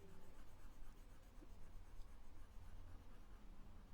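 A rubber eraser scrubs steadily across a pencil drawing on paper, producing a continuous, soft, close-up friction rustle with no talking.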